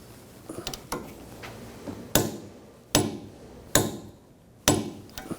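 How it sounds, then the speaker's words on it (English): A wrench torques a sway bar link nut on a 2007-2013 BMW X5, giving several sharp metallic clicks spaced roughly a second apart after some light fumbling, close and fairly loud. "Now I'm going to torque this nut to 73 foot-pounds."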